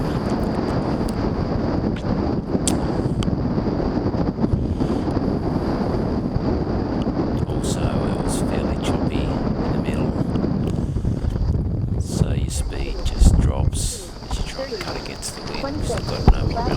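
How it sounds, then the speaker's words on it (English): Strong wind roars steadily across a windsurfing sail on Lake George, a loud, close, buffeting rush with microphone wind noise and faint water slap, continuing unbroken with a brief lull near the end. "So much wind coming into the sail."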